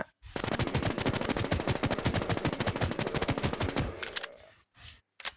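A Honey Badger rifle fires at a boss in Infestation, sounding as one rapid, loud automatic burst of closely spaced shots lasting about four seconds, followed by a few sparse, separate clicks or shots.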